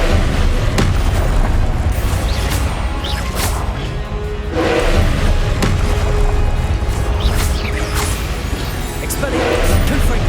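Confringo blasting spells exploding in Hogwarts Legacy combat: loud booms, crashes and whacks land in quick succession, with swishing spell casts and a busy, constant background of battle noise.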